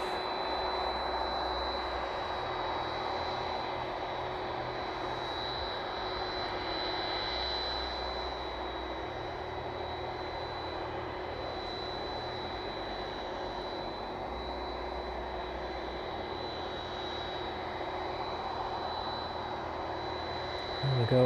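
Boeing 767 engines turning at East Midlands Airport, a steady broadband roar with a sustained high whine, continuous and fairly distant for about twenty seconds with no talk.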